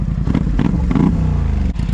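Polaris Sportsman 850 ATV engine revving close by, its exhaust deeper and louder with the spark arrestor removed, with rough throaty pulses rising and falling over two seconds.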